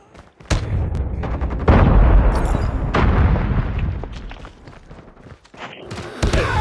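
A frag grenade goes off in a Call of Duty game with a heavy, booming blast amid a chaotic stretch of loud gunfire and thuds that keeps going throughout.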